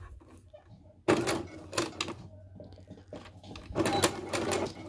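Sewing machine stitching a back tack at the start of a double-pointed dart, heard as several short bursts of quick mechanical stitching separated by brief pauses, near and moderately loud with no talk.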